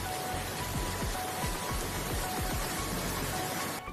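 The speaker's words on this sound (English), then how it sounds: "Sichuan and Gansu provinces also experienced heavy rains that led to flooding." Heavy rain during the 2022 flooding in Sichuan and Gansu provinces, a dense, continuous hiss of downpour with scattered sharper drops, steady throughout and without voices.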